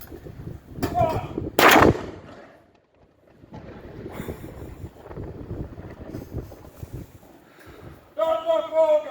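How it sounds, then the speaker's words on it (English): Ceremonial cannon gun salute in Guernsey, a sharp loud blast with wind buffeting the microphone, set among shouted firing commands and voices at an outdoor event. "Number 4 gun! Fire! Number 5 gun! Fire!"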